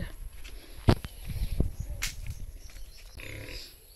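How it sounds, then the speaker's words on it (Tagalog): A pet pig grunting and snorting for food at a house, close and short with a few sharp thumps and shuffling, low grunts scattered over several seconds. "Nanghingi na ng pagkain yung ating malagang baboy."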